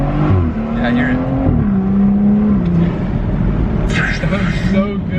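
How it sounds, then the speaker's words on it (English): A BMW fitted with an MST intake accelerates, its engine note rising with a faint whistling turbo spool above it. The sound is loud and close, with people talking over part of the run. "when you're first gassing it, like listen to the acceleration. You can hear the turbo."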